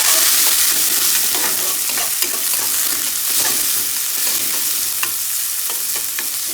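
Vegetables frying in a pan sizzle steadily while a spatula stirs them, with scraping clicks and knocks scattered through a continuous loud hiss, no talking.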